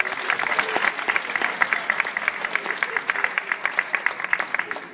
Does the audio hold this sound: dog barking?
no